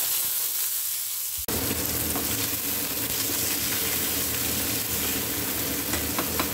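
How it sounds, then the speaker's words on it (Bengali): Mustard seeds, cumin and bay leaf hit hot oil for a brinjal masala tempering, a sudden loud sizzle erupting after quiet and holding as a bright, crackling hiss. "ফোড়ন দিয়ে দিচ্ছি সর্ষে, সাদা জিরে আর তেজপাতা"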